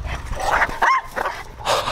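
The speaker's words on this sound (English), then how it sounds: "The dog's talking more than anybody." A young female dog makes a short run of vocal sounds: whimpers, yips and soft barks with rising whiny tones, close to the microphone, in a few quick bursts over about two seconds.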